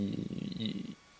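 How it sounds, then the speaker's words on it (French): A pet cat purrs softly and close by for about a second, a low rumbling breathy pulse indoors that fades out into quiet. "Si vous avez entendu, c'est mon chat."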